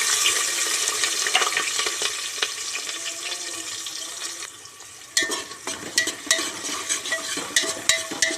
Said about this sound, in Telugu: జీలకర్ర వేసుకున్న తర్వాత ఉల్లిపాయలు వేసుకున్నాం.